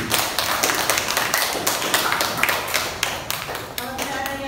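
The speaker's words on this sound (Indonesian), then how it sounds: "Boleh tepuk tangan?" Hands clapping in a classroom after a student's accounting lesson presentation, a brisk patter of several people applauding close by for a few seconds, with faint voices toward the end.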